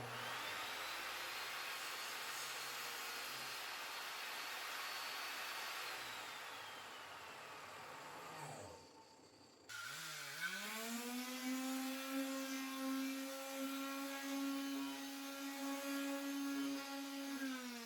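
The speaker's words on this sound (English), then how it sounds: "I'm going to go to the table saw and cut this one and make the final cut." A woodshop table saw runs with a steady broadband whine, cuts out briefly, then its motor spins back up into a loud, sustained humming drone. No one speaks.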